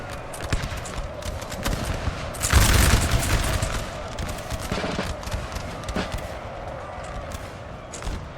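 Dense musket volleys and artillery crackle and boom in a Napoleon: Total War battle, continuous rattling gunfire throughout with a heavier burst of booms near the middle, loud and layered over the ongoing din.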